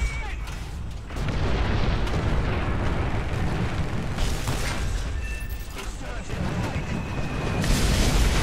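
Heavy bombs from an airstrike pound a contested base in a World War II tank battle game, with a dense, continuous roar of explosions and rumbling artillery filling the whole stretch, loud and close, and a voice talking underneath.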